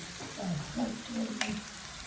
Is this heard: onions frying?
yes